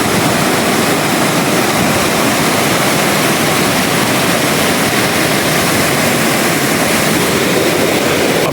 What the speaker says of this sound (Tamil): இங்கே பாருங்கள், பயங்கரமான ஸ்பீடில் போயிட்டு இருக்குது மக்களே தண்ணி